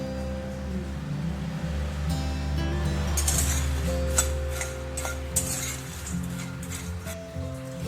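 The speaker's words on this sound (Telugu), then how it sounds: "ముందుగా స్టవ్ ఆన్ చేసుకొని ఈ మకానాన్ని నూనె లేకుండా ఫ్రై చేసుకోవాలి" Fox nuts (makhana) dry-roast in a pan without oil, giving a soft, steady crackle with scattered light ticks and clinks as they are moved about, close and fairly quiet over a low background hum.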